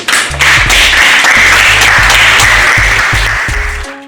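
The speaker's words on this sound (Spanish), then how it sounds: "Un aplauso" Loud, close applause fills a room after a judo presentation for a sensei, dense steady clapping that swells quickly and tapers off near the end.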